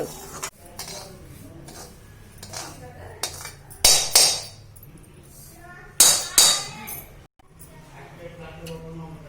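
Fried ingredients for upma are scraped from a kadai onto a plate, giving metallic clinks and a few loud ringing scrapes. A person talks over the clatter.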